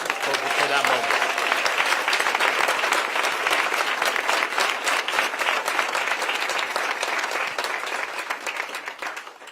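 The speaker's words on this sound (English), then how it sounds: "And I want you all to give him a round of applause" Crowd applause at a Phoenix 'Make America Healthy Again' political rally, a dense, loud, sustained roar of many hands clapping that holds steady across the whole stretch and eases only slightly at the very end, with no talking over it.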